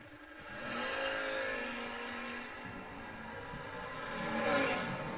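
A drag race car powers down the strip in a bracket race, its engine a loud sustained roar that swells, holds steady and surges again near the end, with no voices over it.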